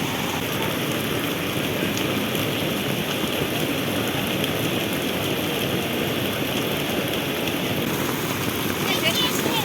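Floodwater rushes near a village bridge in a constant broadband roar, loud and unbroken throughout, with voices talking over it.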